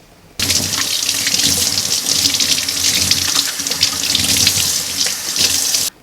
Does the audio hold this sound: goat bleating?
no